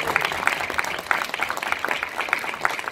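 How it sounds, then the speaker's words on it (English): Steady applause from an audience of delegates at a Baltimore civic gathering, continuous dense clapping at moderate volume throughout. "Give them a big round of applause."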